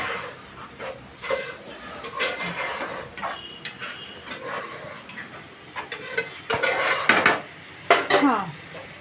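Utensil stirring leafy greens curry in a cooking pan, with repeated scraping and clinking of metal against the pan, fairly close, sometimes louder in bursts, and no talk.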